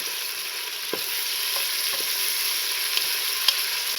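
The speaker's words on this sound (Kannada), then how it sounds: "ಫ್ರೆಂಡ್ಸ್ ಇವಾಗ ಟೊಮೊಟೊ ಹಾಕೊಂಡೆ ಇವಾಗ ಮಿಕ್ಸಿಂಗ್ ಮಾಡ್ತಾ ಇದ್ದೀನಿ" Chopped tomatoes and fried onions, the base for a prawn biryani, are stirred in a hot pan: a continuous close sizzle with a few soft knocks and scrapes from the stirring spoon, and no talking.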